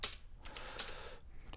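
Code is typed on a computer keyboard, with steady close key clicks and a few louder strikes in a brisk, uneven rhythm and no talking.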